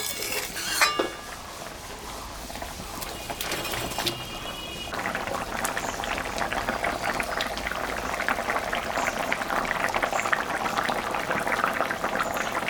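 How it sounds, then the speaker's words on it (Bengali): Rohu fish curry broth bubbles at a steady rolling boil in a pot, close and continuous, preceded by a few clinks of utensils against cookware. "ঝোলটা ফুটে গেছে এখন আমি মাছটা দিয়ে দেব"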